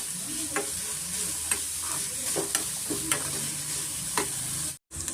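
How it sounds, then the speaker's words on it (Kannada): Vegetables frying in a pan over a medium flame for vegetable bread pakoda, a steady soft sizzle broken by repeated clicks and scrapes of stirring, close and fairly quiet. "ಮೀಡಿಯಮ್ ಫ್ಲೇಮಲ್ಲಿ ಸ್ವಲ್ಪ ತರಕಾರಿನ ನಾವು ಫ್ರೈ ಮಾಡ್ಕೊಳ್ಳೋಣ ಚೆನ್ನಾಗಿ"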